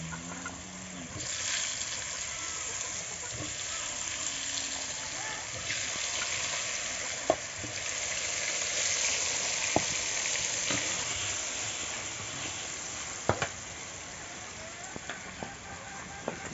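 Potato pieces frying in hot oil with salt and turmeric give a steady close sizzle, broken by a few sharp clicks and taps of a utensil, and no talk is heard.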